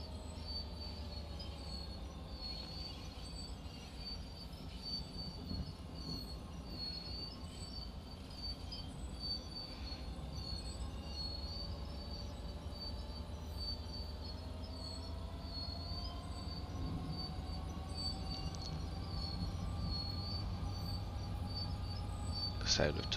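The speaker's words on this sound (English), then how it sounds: "Sound of tortured brakes." Sustained metallic squeal of train wheels and brakes in the Train Sim World 3 simulator, shrill tones sliding under a steady low rumble of rolling stock that grows slightly louder as the train slows, with faint chirping in the background.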